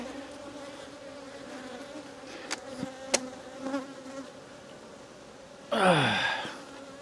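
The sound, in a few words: honey bees buzzing around a hive box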